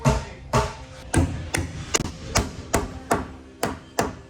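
A hammer swung from halfway down its handle strikes wood in a steady series of about ten sharp, loud blows, each with a brief ringing decay and roughly half a second apart.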